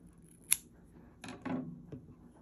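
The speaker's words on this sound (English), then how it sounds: "you can just simply chain 1 and then cut the yarn off" A few quiet snips of scissors cutting crochet yarn, one crisp clip followed by softer cutting sounds, close and alone.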